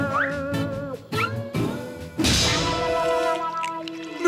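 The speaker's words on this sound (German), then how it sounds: "Eine Katze!" A cartoon cat in a German-dubbed Lucky Luke cartoon meows a few times with quick rising and falling cries, mixed with a couple of dull thumps and a harsh burst in the middle.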